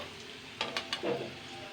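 Faint sizzle of pumpkin pieces frying in a pan after potatoes, with a few quick scraping stirs and a soft clink as they are turned, no talking.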